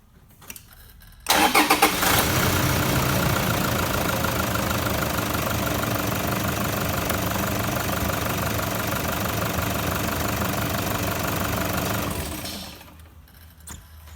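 A Toyota Landcruiser engine cranks and catches, then settles into a steady, loud idle that runs for about ten seconds before cutting off, with no talking over it.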